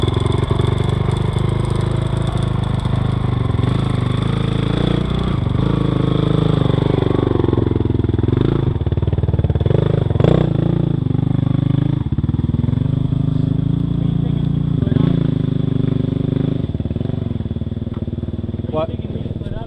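Motorcycle riding on a trail, a steady engine drone with wind and rattling clatter, loud and continuous, while riders talk over it.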